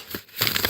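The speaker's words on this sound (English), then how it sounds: "And we'll go ahead and shuffle these." Tarot cards are shuffled close up, with a brief soft riffle followed by a denser papery flutter of cards slapping together, quiet and without talk.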